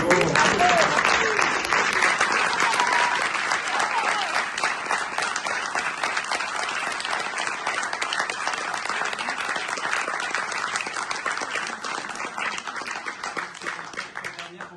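A theatre audience in Nice applauds at the curtain call of a Kaamelott stage production, steady dense clapping that begins fairly loud and fades gradually over about fifteen seconds, with a few faint voices at the start.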